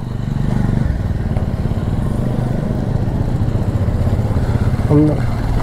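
Several Royal Enfield motorcycles, including a GT 650 Interceptor, ride together as a group, their engines giving a steady, loud, throbbing drone throughout, with a brief sharper burst near the end.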